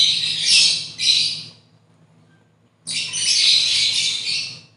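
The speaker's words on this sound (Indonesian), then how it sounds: "untuk lobet jantan sering ngepak sayap bagi saya wajar Omku" A male lovebird flaps its wings in two loud, close bursts of rapid fluttering, a short flurry, then a pause before a longer flapping bout.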